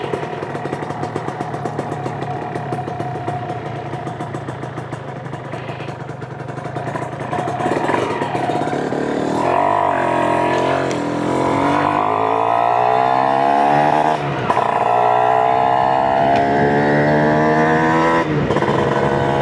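A Kawasaki SSR150 motorcycle set up in a cutting racing style, recorded onboard while riding: a loud, buzzing engine note that idles steadily, then revs up and climbs through several rising gear pulls.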